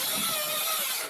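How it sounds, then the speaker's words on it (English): Power drill boring into wooden storage furniture while it is assembled, a steady high-pitched whine held for about a second before trailing off, close and alone with no talk. "So let's just drill on the right side of that circle"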